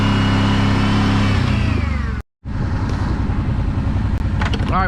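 A four-wheeler ATV on BigHorn 3.0 tires drones with a steady loud engine note while driving through the woods toward a mud hole, briefly cutting out once before resuming, gear and wind rattling around it.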